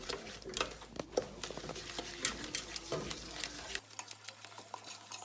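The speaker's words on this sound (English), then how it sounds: "mix our sugar in with a wooden spoon" A wooden spoon stirs sugar into melted butter and chocolate in a pan, giving soft, irregular scraping and tapping strokes, faint and close, with a brief quiet stretch at the end.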